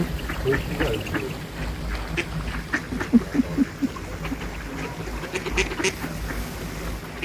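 Ducks quack repeatedly in short bursts among swans and other water birds at an outdoor pond, with scattered nearby calls and a quiet voice talking at times in the background.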